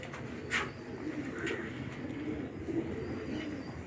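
Pigeons, a pair kept for sale, coo softly and low under steady background noise, with a couple of faint higher calls and no talk.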